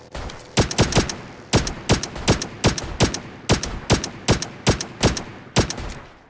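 Gunfire in the PUBG Lite video game: a rapid series of loud, sharp shots in short bursts and singles, evenly spaced and close, with no talking over them.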